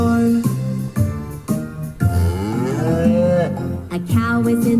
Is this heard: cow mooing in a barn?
yes